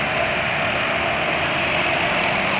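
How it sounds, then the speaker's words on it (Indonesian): A motorcycle engine running on fully synthetic oil holds a steady, dense drone close by, with slight roughness. It stays even and uninterrupted, and no voices are heard. "Ya ada kasar tapi nggak banyak berubah lah suara mesin walau sudah digeber sekalipun."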